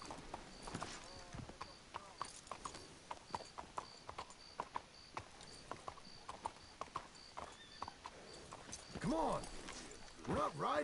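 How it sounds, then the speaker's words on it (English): Horses' hooves clip-clopping at a walk in the Red Dead Redemption video game, a quiet, even rhythm of hoof strikes lasting through most of the stretch, with a swell of louder movement near the end. "Let's hitch the horses up ahead."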